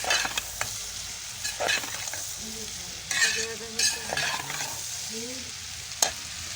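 Chopped onions frying in oil in a home kitchen pan, a steady sizzle broken by several scraping stirs of a spoon against the pan, close and fairly quiet.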